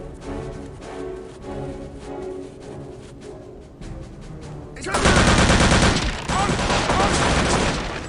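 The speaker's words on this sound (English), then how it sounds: "they shoot through the wall, the floor, or the ceiling in their case" Gunfire from enemies shooting through walls in Return to Castle Wolfenstein: scattered shots at first, then a loud, dense burst of automatic fire over the last three seconds, with a voice talking underneath.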